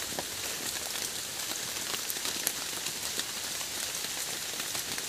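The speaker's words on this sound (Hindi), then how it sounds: "फिर से बारिश स्टार्ट हो गया है।" Rain falls steadily in a jungle where mushrooms grow, a dense, even hiss of countless drops on leaves and ground, close and continuous, with no voices.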